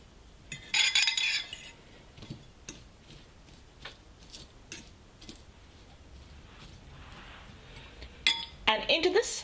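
A utensil scrapes and knocks against a pan while onion, tomato and spices are pressed together for a masala omelette, giving irregular clinks and taps with quiet gaps between them.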